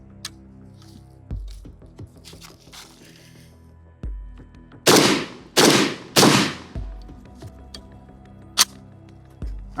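Several AK rifle shots fired through a muzzle brake outdoors, loud sharp blasts with a rapid cluster of three in the middle and single shots before and after, each followed by a short ringing decay.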